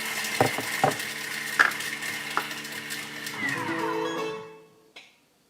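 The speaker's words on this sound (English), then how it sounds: "Chopping for another 4 seconds." A kitchen appliance chops garlic for a pizza topping, with a steady whirring and clattering punctuated by sharp knocks. Its motor winds down near the end, followed by a final clunk.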